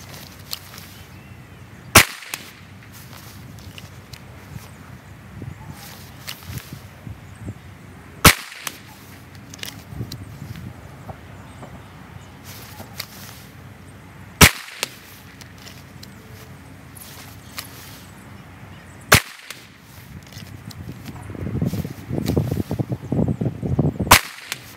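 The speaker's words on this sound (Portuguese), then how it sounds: "Sacar a arma do coldre, dar um tiro na bola com o número 2 e voltar a colocar no coldre." Single handgun shots crack out one at a time during a Dot Torture shooting drill drawn from a holster, about five sharp reports spaced several seconds apart, with quiet handling between them and no talking.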